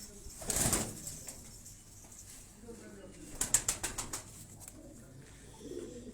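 Local Quetta pigeons flutter and coo in short bursts, with a flurry of wing flaps near the middle, fairly close, under light background noise.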